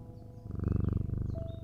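A cat in the puzzle game Strange Antiquities gives a close, rumbling purr with a steady pulsing rhythm that swells in after a quiet moment and continues alone, over soft ambient game music.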